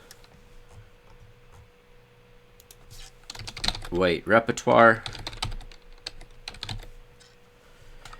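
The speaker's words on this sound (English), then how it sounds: "I'm typing in Chessable Play and Win" Rapid clicking of a computer keyboard while a chess course title is typed, soft and close, with someone speaking briefly over the middle of the taps.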